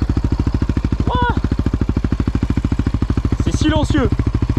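A loud 700 Raptor engine with a Yoshimura exhaust and its baffle removed idles with a deep, rapid, uneven pulsing throb, close by, while a voice speaks briefly over it.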